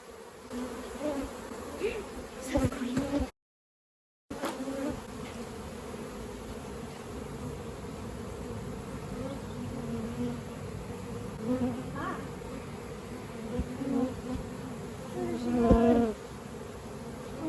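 Bees buzzing inside a house wall in Australia, a steady dense drone with individual insects whining past close by, swelling louder near the end as the agitated swarm grows restless.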